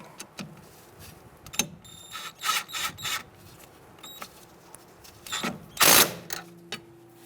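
Close, rapid clicking from a ratchet with a 10mm socket tightening a brake bracket bolt on a 2000-2007 Ford Taurus comes in several short bursts, the loudest near the end, with faint metallic knocks between them and no voices.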